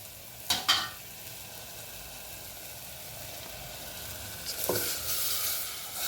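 Lentil water poured into boiling gojju in a pot, a couple of sharp clatters followed by a steady, close sizzling hiss that swells toward the end, no voices.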